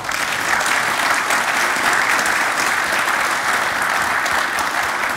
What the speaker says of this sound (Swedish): jag tror faktiskt vi får tacka det här gänget och ge dem en varm applåd.